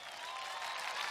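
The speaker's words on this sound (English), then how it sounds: "There go that applause we was looking for" Studio applause sound effect played on a radio DJ show, a steady wash of many hands clapping with faint crowd noise, continuous and even for its brief length without talk.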